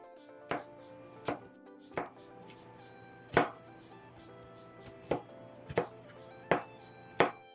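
A knife chops vegetables for lasagna on a board with sharp, close taps, eight strikes at an uneven, unhurried pace, with a faint hum between them.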